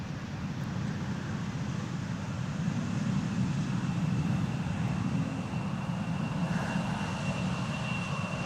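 Airliner approaching to land on runway 18R Polderbaan at Amsterdam Schiphol in gusty weather: a steady, distant engine roar with broad rumble, fairly faint and continuous throughout, with no talk.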